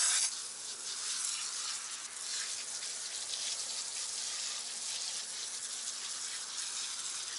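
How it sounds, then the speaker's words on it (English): A foamer sprays wheel cleaning foam onto car wheels in a continuous soft, hissing spray, fairly faint and steady throughout with no talking. "I'm actually using a different foaming system that I'm testing right now."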